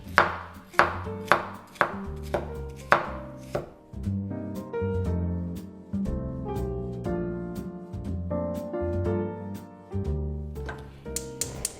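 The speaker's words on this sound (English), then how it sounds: "We're chopping them nice and thin." Bell peppers are sliced thinly with a knife on a cutting board, a quick run of crisp close chops followed by softer, denser cutting over background music.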